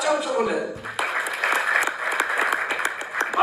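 An audience in a hall applauds a lottery winner, with a brief voice at the start and then about two and a half seconds of steady, close, dense clapping.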